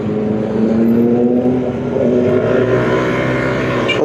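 A Yamaha Aerox V2 scooter fitted with a new J muffler exhaust pipe runs close by, its loud, continuous exhaust drone wavering slightly in pitch.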